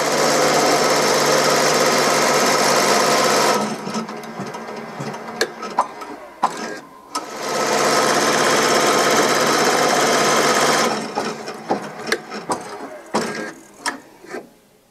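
An embroidery machine sews a placement stitch, giving a loud, fast mechanical chatter in two long runs. Quieter clicks and clunks fill the pause between them and follow the second run.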